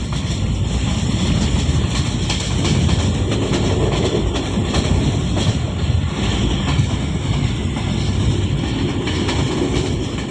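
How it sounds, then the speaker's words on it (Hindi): The Sir Syed Express passenger train roars past at 110 km/h, a loud continuous rumble with rushing wind noise throughout. "सर सैयद एक्सप्रेस 110 किलोमीटर की रफ्तार से थ्रू पास कर रही है।"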